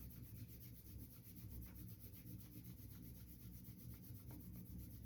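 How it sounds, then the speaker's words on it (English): Palms rubbed briskly together, a steady continuous friction swish with even rhythm, close and fairly quiet, no talking. "Take your hands and rub them together."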